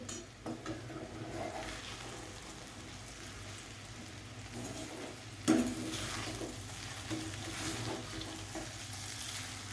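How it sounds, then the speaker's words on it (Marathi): Sabudana khichdi with crushed peanut powder being stirred in a pan, a soft continuous sizzle with gentle scraping from the bottom and one sharper clink midway. "छान असं बुडापासून मिक्स करून घ्यायचं आहे, नाहीतर बुडाला लागतो."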